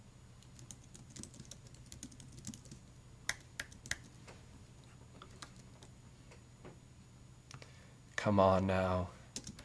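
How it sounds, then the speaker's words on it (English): Quick, irregular keystrokes on a computer keyboard click softly and close by, ending in a short spoken phrase. "Am I still typing?"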